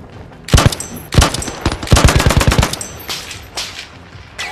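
Gunfire in the VR video game Zero Caliber: loud single shots, then a rapid automatic burst and scattered later shots, punchy and close.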